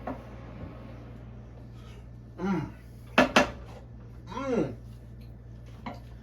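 A utensil is stirred through beef and potato filling in a pan, giving a few scraping, clinking strokes spaced apart over a steady low kitchen hum.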